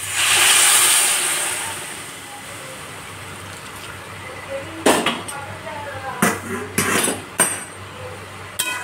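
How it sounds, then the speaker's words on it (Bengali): Hot water is poured into a pan of fried figs and prawns, giving a loud steamy hiss that fades over a couple of seconds. Sharp metal clinks and knocks from a spoon on the pan follow. "এবার গরম জল দিয়ে দেবো।"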